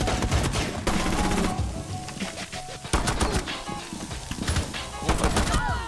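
Dense gunfire in the tactical shooter Rainbow Six Siege, with rapid bursts and single shots overlapping continuously at close range and loud, alongside other game effects.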